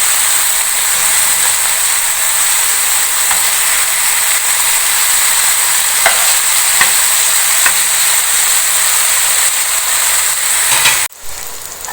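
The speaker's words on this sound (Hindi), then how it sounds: "हमने धीमी धीमी आंच पर इनको फ्राई करना है और अच्छा सा सेंकना है" Camel mince kebabs fry slowly in oil over low heat, giving a loud, steady sizzle and hiss throughout, with a few faint pops and a brief dip near the end.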